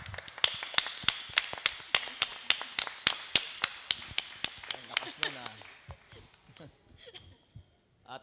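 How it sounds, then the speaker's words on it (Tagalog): A church congregation at a healing service claps loudly in a fast, steady rhythm of sharp handclaps for about six seconds. The applause then thins out and stops while a voice speaks at the end. "Sige po, yung malakas na palakpak bigyan natin kay Lord."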